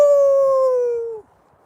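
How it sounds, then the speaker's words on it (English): One long howl, close and loud, holding a steady pitch for just over a second before cutting off into quiet room noise, with no talking. "I'm making the dogs bark."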